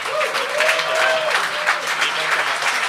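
A live comedy show crowd claps for the staff, steady loud applause that holds for a few seconds, with a voice faintly rising over it.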